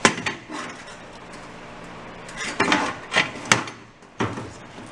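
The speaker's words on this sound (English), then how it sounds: "I hammer all that out straight." A crushed exhaust baffle from a rotted Honda Trail 90 exhaust is hammered straight by hand, producing several irregular, close knocks and clanks separated by brief pauses.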